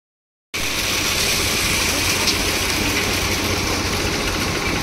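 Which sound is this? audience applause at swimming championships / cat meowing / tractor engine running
tractor engine running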